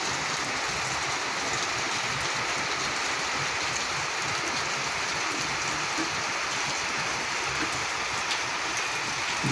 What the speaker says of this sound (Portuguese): tá chovendo o dia inteiro já